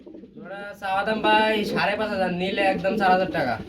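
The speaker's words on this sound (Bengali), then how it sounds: "এখানে দেখতে পাচ্ছি আমরা আরেক জোড়া কিং কবুতর" King pigeons cooing close by in a loft, with steady, throaty warbling coos filling the whole stretch.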